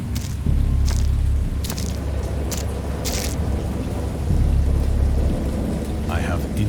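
Thunderstorm with steady heavy rain, punctuated by several sharp cracks and a deep rolling rumble of thunder, loud and close throughout.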